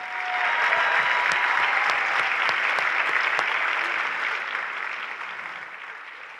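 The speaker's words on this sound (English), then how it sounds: "One more round of applause for the students at Memorial." An audience at a high school winter band concert gives the students a full round of applause, with steady dense clapping that holds for several seconds and then slowly tapers.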